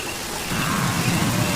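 Heavy rain pours in a dense, steady hiss on the Serengeti, loud and unbroken, with a low rumble that grows beneath it and no voices.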